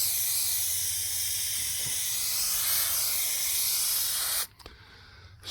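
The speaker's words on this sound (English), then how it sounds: "Spray it liberally and get it on the area where you're working." A steady, loud aerosol trim adhesive spray hisses continuously for about four seconds while making door panels for a 1936 Ford, then cuts off abruptly, leaving near silence.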